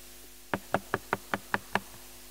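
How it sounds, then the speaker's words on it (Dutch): A fist raps on a door again: seven crisp knocks in a steady, even rhythm, close by, with no voices around them. "En hij klopt weer."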